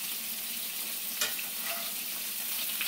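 Scallops and lobster tail sear in hot oil, giving a soft, steady sizzle close by with one brief sharp spatter partway through, no voices.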